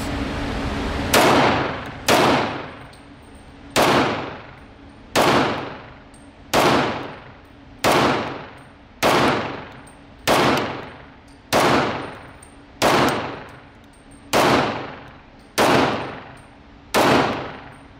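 Atlas Gunworks 2011 pistols firing a steady string of about thirteen loud, sharp shots at regular intervals of roughly a second, each crack ringing out in a short decaying tail, outdoors with no talk.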